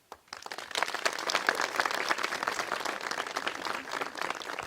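Schoolgirls and school heads applaud a young man, a crowd of hands breaking into quick, dense clapping that swells and holds steady at a strong level before tapering at the end, with no voices over it.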